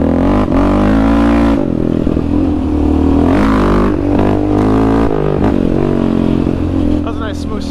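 ATV engine revving hard on a rough trail ride, loud and close with repeated throttle surges and drops, clattering over bumps and briefly popping into a wheelie.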